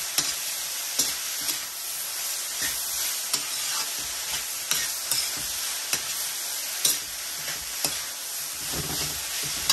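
Vegetables for pancit miki being stirred in a hot pan, a constant sizzle under repeated scraping strokes of a utensil that come every second or so, close by with no voices.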